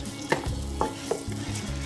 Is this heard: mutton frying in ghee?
yes